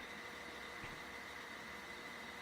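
Idling Pennsylvania GG1 locomotives in the video game RO-Scale Sandbox: a steady low engine drone hums continuously, with a faint high-pitched whine over it and no talk.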